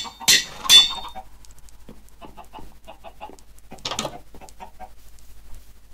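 Chickens in the video game Minecraft give a few soft, short clucks spread across the clip, faint and intermittent, with a couple of louder sharp bursts near the start and middle.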